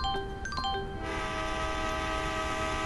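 A train in the Granny video game sounds a sustained, steady multi-tone horn after a few quick chime-like notes at the start, loud and continuous over a low rumble.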